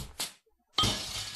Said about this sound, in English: Just break the glass.